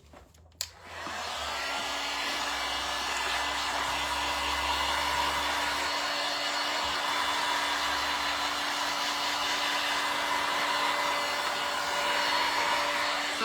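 A hair dryer clicks on and runs with a steady, loud whooshing whine, drying milk paint on a salvaged wood and cardboard craft piece, holding a constant tone from start to end without talking.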